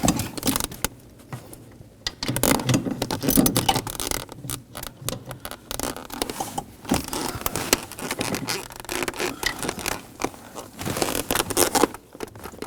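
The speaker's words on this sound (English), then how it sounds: "If you can get a torque wrench in there, you want to torque those to 15 foot-pounds." A torque wrench tightens the master cylinder bolts to 15 foot-pounds on a 2009-2013 BMW 328i xDrive 3.0L L6. Irregular bursts of close ratcheting clicks mix with metallic scraping and knocks, and there are short pauses between the bursts.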